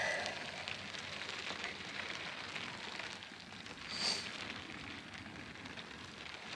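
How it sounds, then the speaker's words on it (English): Steady, dense patter of rain falling on a surface, constant and textured throughout, with no voices. "It's raining."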